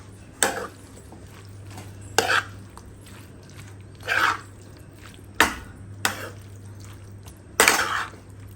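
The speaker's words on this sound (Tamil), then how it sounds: "ஸோ மைனஸ் இப்போ மிக்ஸ் பண்ணியாச்சு." Mayonnaise being mixed with garlic spread in a bowl: a utensil scrapes and clinks against the bowl in about six separate strokes, close and clear over a low steady hum, with no one talking.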